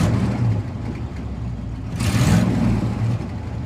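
A truck engine idles steadily up close, a low continuous rumble left running to charge the battery through the alternator, with a brief rise in hiss midway.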